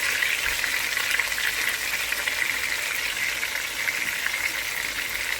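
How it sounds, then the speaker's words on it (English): Meat sizzles steadily in a hot skillet, a loud, even hiss of frying fat holding without pause from start to finish with no voices over it. "Now that I got the meat into the skillet and it's talking to me"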